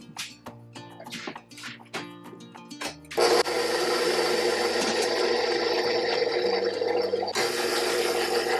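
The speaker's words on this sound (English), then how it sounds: "Just mixing with my dough hook attachment on low." Stand mixer with a dough hook working vegan baked doughnut dough on low speed, a steady whirring motor drone that starts abruptly after a few seconds of quieter clatter and runs continuously, briefly shifting in tone near the end.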